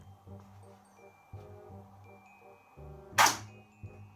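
A Magnum toy dart gun firing a sticky dart, a single sharp snap standing out against quiet, rhythmic background tones, with a small tap shortly after.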